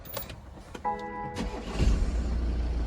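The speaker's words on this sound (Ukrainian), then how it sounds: "завести автомобіль." A cold 2021 BMW 318d diesel is started with the push button: a brief electronic chime, then the starter turns and the engine catches with a low rumble that settles into a steady, close idle.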